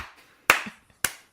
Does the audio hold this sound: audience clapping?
yes